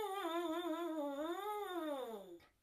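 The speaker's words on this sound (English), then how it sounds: "when I blow the mouthpiece on its own, it makes a very funny sound like this." A French horn mouthpiece buzzed on its own makes a thin, nasal, lip-buzz tone that slides down, rises and falls again over about two seconds before stopping.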